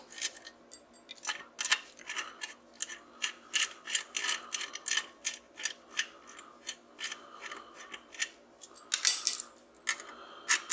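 A nut driver works nuts off discarded electronics, producing a quick series of sharp metallic clicks and ticks at close range, irregularly spaced with brief pauses between bursts.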